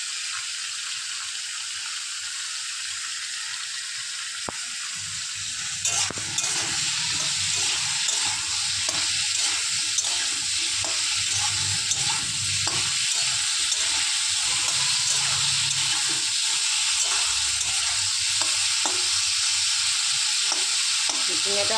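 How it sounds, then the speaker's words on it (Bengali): Sliced ridge gourd frying in hot oil with salt and turmeric, giving a steady, loud sizzle with occasional scrapes from stirring and a brief clatter near the start. No one speaks. "ঝিঙেটা ভাজা হয়ে গেছে"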